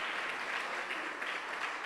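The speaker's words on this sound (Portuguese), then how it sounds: "pode aplaudir, porque é para Ele" A church congregation applauding during a Christmas sermon, a soft, continuous wash of many hands clapping at a fairly low level with no voices on top.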